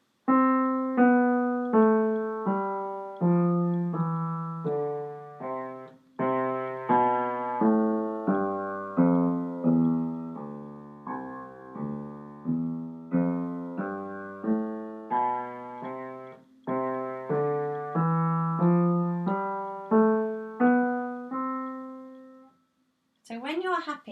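A basic-fingering scale is played over two octaves, one clear sustained note at a time, climbing and then falling in an even rhythm with no voices.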